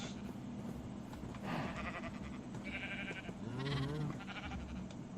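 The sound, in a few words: sheep bleating in Minecraft video game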